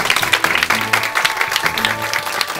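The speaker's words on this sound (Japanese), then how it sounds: "彼の勇気に拍手。" An audience claps steadily and fairly loudly at a drumming event, a dense run of overlapping hand claps lasting the whole stretch, with a faint low musical hum underneath.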